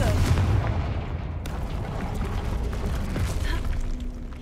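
A Confringo fire spell bursts in Hogwarts Legacy with a loud explosive boom, then a dense rumbling wash of crackling magical effects rolls on for several seconds.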